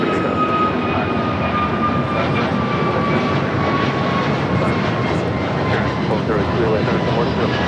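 A jet airliner roaring steadily on takeoff from runway 25 right at Los Angeles International Airport, loud and continuous with a droning engine whine, as voices speak faintly over it.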